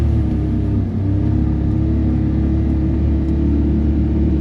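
A 2026 Can-Am Defender HD11 Limited Max side-by-side crawling in low gear through cold-weather terrain, with a steady, close, deep engine rumble and drivetrain drone that holds even throughout.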